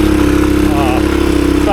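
A 1983 Honda XR200R dirt bike, a 15 hp trail machine ridden in second gear in the woods, drones with a steady, close engine hum while a voice speaks over it.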